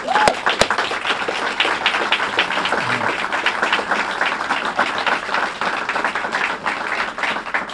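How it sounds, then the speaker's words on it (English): An audience applauds the men's basketball players at a press event naming a new head coach, sustained loud clapping from a crowd filling the whole stretch without pause. "I need y'all to clap for them"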